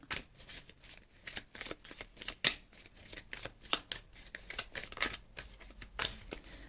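Oracle cards being shuffled and drawn for a reading, with repeated quick riffling and flicking bursts of card stock, close and fairly soft, irregular in rhythm and heard alone without talk.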